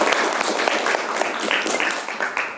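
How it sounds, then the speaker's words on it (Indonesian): A crowd at a university teacher-training presentation session applauding steadily, many hands clapping in a dense, continuous patter that holds at an even level throughout. "Beri tepuk tangan, silakan kembali."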